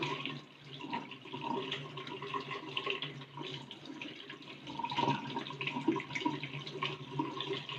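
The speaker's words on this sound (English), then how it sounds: "Then I will wash my rosemary." Fresh rosemary is rinsed under a running kitchen tap, the water streaming steadily and splashing softly for several seconds at a moderate, close level with no talking.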